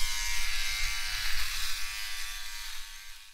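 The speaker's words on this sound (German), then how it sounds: "manche Änderungen funktionieren am besten mit Spiegel und einem Rasierer" An electric razor buzzes steadily while shaving a beard outdoors in freezing cold in Alta, Norway, a close, bright whirring drone that wavers as it moves over stubble.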